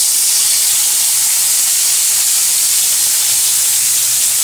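Curry leaves dropped into hot oil with cloves and small cardamom pods, giving a loud, dense, continuous hiss of spitting oil that holds steady and close from start to finish.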